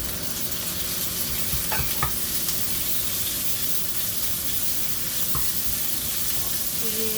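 Ground pork browns in a pan with garlic, a dense, steady sizzle filling the whole clip, close and loud, with a few faint stirring clicks.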